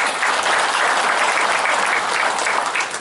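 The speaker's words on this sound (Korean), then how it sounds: "환영의 박수 부탁드리겠습니다" An audience at a chamber of commerce breakfast meeting in Gumi applauds to welcome a newly appointed regional branch head of the Korea Employment Agency for Persons with Disabilities, a dense, even round of clapping that holds steady throughout.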